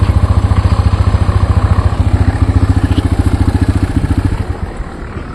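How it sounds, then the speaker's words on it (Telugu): A TVS Raider 125 motorcycle idles in first gear with a steady, close, thumping engine beat, then the engine cuts out and dies away as the side stand is lowered. No one speaks. "చూసారా, బైక్ ఆటోమేటిక్గా ఆఫ్ అయింది"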